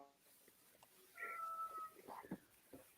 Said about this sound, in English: My cat honks.